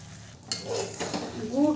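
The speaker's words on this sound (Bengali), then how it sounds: "গুড়টা দিয়ে ভালো করে মিশিয়ে নেব" Sugarcane jaggery is stirred into a pan of jujube pickle over a low flame, giving soft scraping and light clinking of a spoon against the pan, quiet and close, with a faint sizzle underneath.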